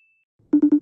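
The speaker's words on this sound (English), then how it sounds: "It's ringing, family." A steady electronic ringing tone of an outgoing FaceTime call repeats four times in quick even pulses after a moment of near silence, waiting to connect.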